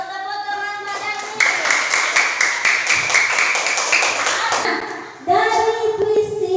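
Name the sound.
class applause after a pantun recitation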